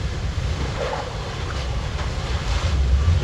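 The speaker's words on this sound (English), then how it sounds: "That wind is blowing it." Strong wind blowing outdoors, a loud continuous roar and rumble with gusty low buffeting that swells toward the end, with no voices.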